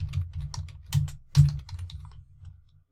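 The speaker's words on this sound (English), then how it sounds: "I'm just going to type in" Close, clear typing on a computer keyboard, an uneven flurry of crisp key taps over about three seconds with no talk.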